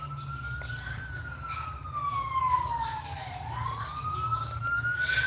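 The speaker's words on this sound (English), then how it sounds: "You hear the sirens?" A single wailing siren sweeps slowly down and back up in pitch, moderately distant, over a low steady rumble of road traffic.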